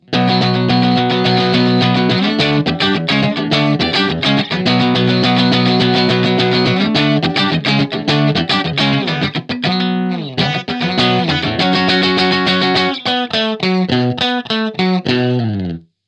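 Stratocaster electric guitar played with a clean tone through pedals, rhythmic chords and picked notes ringing loud and continuous with a shimmering effect, no talking.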